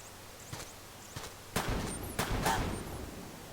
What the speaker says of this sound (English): Yeah, that's gunfire.